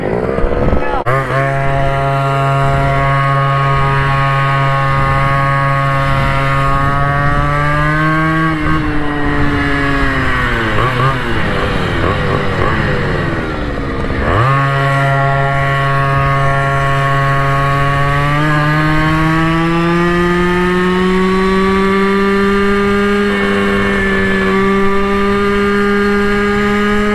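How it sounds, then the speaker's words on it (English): A group of motorcycles, alongside a Goped GTR, roars past on the road with sustained high-pitched engine whine that rises and falls as riders rev and shift, loud and close throughout. "did y'all see a big group of motorcycles just pass?"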